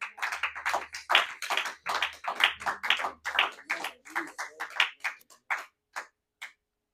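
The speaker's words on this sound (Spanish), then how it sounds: "Vamos a darle un aplauso" A small church gathering gives a short round of hand claps, a sparse run of distinct, close claps that thins out and stops before the end.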